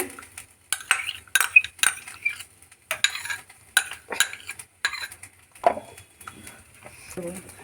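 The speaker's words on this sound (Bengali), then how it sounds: "চালটা ভাজা হতে হতে দইটাকে ফেটিয়ে নেব" Sour yogurt being whisked in a bowl for yogurt pulao, with quick bursts of utensil scraping and clinking in uneven rhythm, close and fairly loud, with short gaps between strokes.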